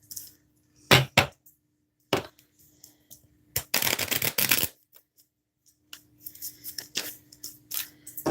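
A deck of psychic reading cards is shuffled by hand, several crisp close riffling bursts and taps separated by pauses, including a longer rapid riffle in the middle, with no talking.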